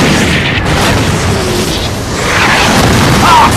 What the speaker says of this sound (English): Never figured I'd buy it from our own bombs.